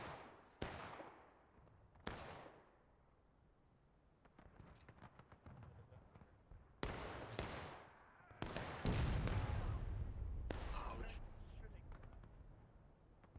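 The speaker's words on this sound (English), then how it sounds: "I haven't watched these cannon yet." Civil War era cannon fire in the video game War of Rights, several deep, sharp booms at irregular intervals, some close and loud, others distant, over a low rumble of battle.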